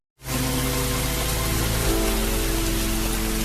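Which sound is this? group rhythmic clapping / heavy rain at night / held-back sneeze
heavy rain at night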